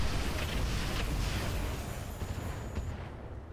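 Mech weapons fire in the video game Roguetech, a dense low rumble of booming shots and explosions rolling together, loud and sustained before tapering off.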